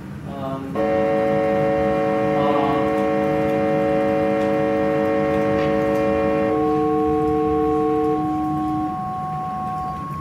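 A loud procedurally synthesized additive drone of stacked steady tones imitating a jet turbine whine, holding for several seconds before some layers drop away.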